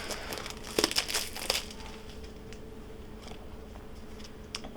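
Plastic wrapping from a Witchling Academy tarot deck crinkling up close, a burst of sharp crackles early on, then quieter scattered rustles and faint ticks.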